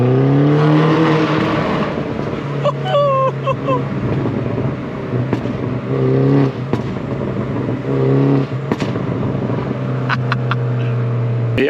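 A Mini Cooper S John Cooper Works engine revs hard in sport mode inside a tunnel, loud rising and falling tones with echoing reverberation and sharp pops between revs, a voice briefly heard over it.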